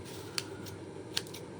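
Two quick, crisp snips of scissors trimming stray strands of grass in a mini Easter basket, spaced under a second apart and faint against a quiet room.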